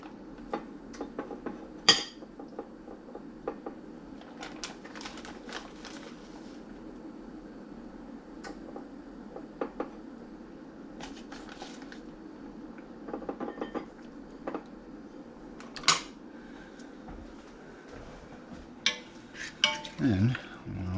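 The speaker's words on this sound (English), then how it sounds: "So first thing we want to do is spoon out some of our cornbread." Cornbread is spooned out in a home kitchen for beef stew, with scattered scrapes and clinks of a spoon against a dish, quiet and close, separated by pauses.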